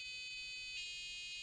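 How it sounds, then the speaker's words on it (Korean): A piercing electronic tone from a micro:bit temperature warning alarm sounds steadily and continuously, with a slight shift midway, close and alone without talk. "이렇게 경보음이 울립니다."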